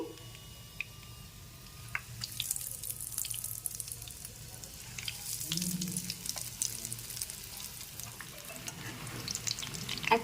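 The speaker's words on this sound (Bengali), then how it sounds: "এখন সবকটা কাটলেট তেল ছেঁকে তুলে নিলাম এবার বাকি কাটলেটগুলোকেও ভেজে নিচ্ছি" Chicken cutlets fry in hot oil with a steady, fairly quiet hiss broken by scattered sharp crackles and pops throughout, with no talking.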